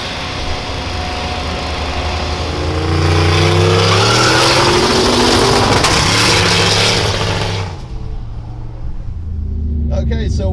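The Boosthoe race car roars down the track on a pass, its engine loud and close as it climbs through rising revs before the power suddenly cuts off and the sound drops away.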